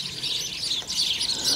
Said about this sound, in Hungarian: rengeteg madár.